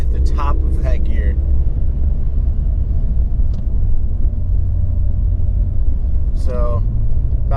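A Stage 1 tuned Ford Fiesta ST accelerates hard in third gear from around 40 mph, a loud, close cabin drone of engine and road rumble, with someone talking briefly at the start and end.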